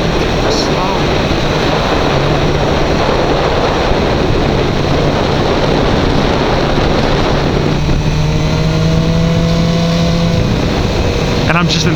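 A BMW S1000R motorcycle riding in third gear over a gravelly road, its steady engine drone buried under heavy wind rush, with a rising engine tone near the end.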